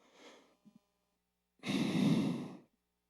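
People breathe out heavily after a breath-hold exercise: a soft exhale, a faint click, then one long, loud, airy exhalation close by, with silence between.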